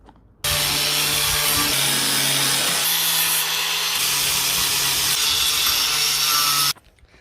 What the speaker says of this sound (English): that was the angle grinder, but it's got like a sanding disc on it.